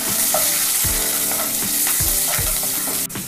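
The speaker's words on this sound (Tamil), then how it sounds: "மீறி வச்சுருக்கிற வெங்காயத்தையும் உள்ளே சேர்த்துடலாம்" Onions and curry leaves fry in hot oil with mustard seeds, giving a loud, dense, continuous sizzle up close, with regular low thumps of stirring and a sharp crackle near the end, no speech.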